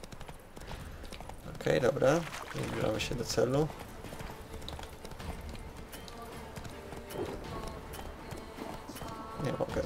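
A horse gallops in the video game The Witcher 3: Hearts of Stone, rapid hoofbeats running steadily under someone speaking Polish over them.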